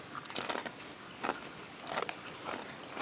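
Crisp rice-flour crackers flavored with kencur (simping beras kencur) being bitten, giving several sharp, crunchy snaps spaced out over a few seconds, close to the mic with no talking.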